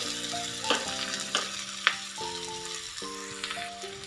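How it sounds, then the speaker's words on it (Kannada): Onions and Byadgi chillies frying together in a pan, a steady close sizzle with a few sharp spatters and faint stirring knocks, no voices. "ಇದ್ರ ಜೊತೆಗೇ ನಾನು ತೊಗೊಂಡಿರೋಂಥ ಬ್ಯಾಡಗಿ ಮೆಣಸಿನ್ಕಾಯಿಗಳನ್ನು ಹಾಕ್ಕೊಂಡು ಒಟ್ಟಿಗೆಲ್ಲ ಗೋಲ್ಡನ್ ಬ್ರೌನ್ ಬರೋವರೆಗೂ ಫ್ರೈ ಮಾಡ್ಕೊಳ್ಬೇಕಾಗುತ್ತೆ."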